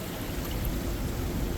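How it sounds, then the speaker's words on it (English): Small indoor waterfall inside Delhi airport Terminal 3, a steady close splashing rush of falling water with no voices. "And this is a mini small waterfall here"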